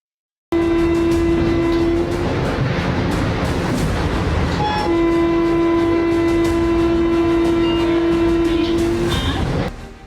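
An Indian Railways train rumbles past with a loud, sustained horn blast, briefly interrupted before sounding again for several seconds over continuous wheel and carriage noise, close and prominent.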